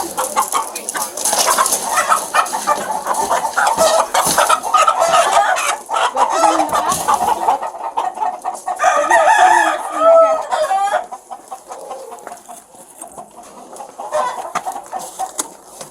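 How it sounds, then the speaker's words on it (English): Roosters at an illegal cockfighting event crow and cluck loudly, with harsh overlapping calls and a long crow standing out near the middle, set against busy background commotion. "help me get these roosters"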